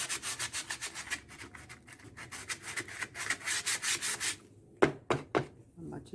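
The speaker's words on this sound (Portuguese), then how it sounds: "a gente pega do cantinho e vem lixando o restante" Steady rhythmic scraping of sandpaper rubbing back and forth over an MDF box, close up, followed by a few sharper brushing strokes near the end.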